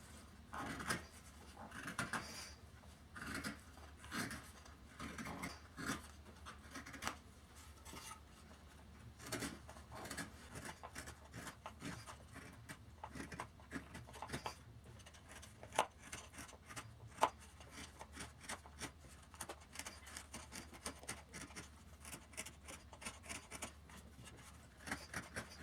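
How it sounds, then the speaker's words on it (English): Chisel shaping a wooden brace for a soprano ukulele top, cutting in steady rhythmic scraping and shaving strokes, close and moderately quiet, with no talking. "I just start shaping it. It's really easy with this chisel to take"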